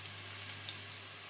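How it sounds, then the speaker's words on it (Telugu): Radish and green chillies frying in a pan, a continuous close hiss and crackle of sizzling with no breaks or talk. "ముల్లంగి, పచ్చిమిరపకాయలు 2 కలిపి ఒక 3 మినిట్స్ వేగాలి"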